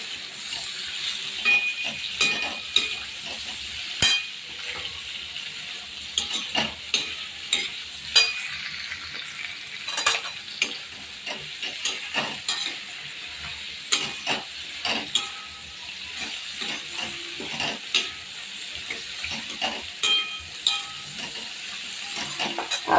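Carrots and asafoetida sauté in a pan with a steady sizzle, broken by repeated scraping and clacking as a spoon stirs them; the cooking is close by and nobody speaks.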